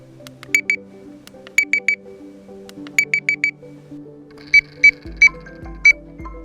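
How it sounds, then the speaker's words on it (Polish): Short electronic beeps from a Crystal RF 1118 Bluetooth fishing bite alarm played on a smartphone, in quick clusters of two to four, bright and repeated, over a quiet low hum, ending with four evenly spaced single tones. "to jest dźwięk sygnalizatora na moim smartfonie."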